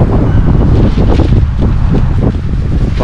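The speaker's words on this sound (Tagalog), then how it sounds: "Lakas ng hangin." Strong wind blasts across a mountaintop campsite, a loud, continuous roar buffeting the microphone with gusty surges throughout.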